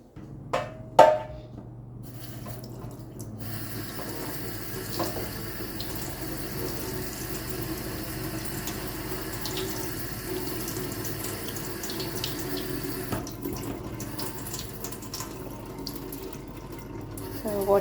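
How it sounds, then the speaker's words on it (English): Water runs steadily from a dishwasher spray arm during a deep clean, a continuous splashing gush that holds for most of the stretch, opened by a few sharp knocks and clatters. "So water's coming out of here"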